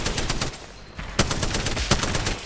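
Rapid automatic gunfire rattles through a video game match, a dense string of close, loud shots with a couple of sharper, louder cracks standing out.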